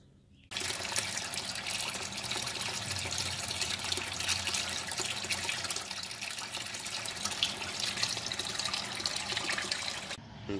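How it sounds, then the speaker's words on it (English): Quartz crystals being rinsed under a kitchen sink tap, a steady close rush of running water starting abruptly and continuing evenly for about ten seconds before cutting off. "I'm gonna rinse these off as good as I can under the sink, the kitchen sink"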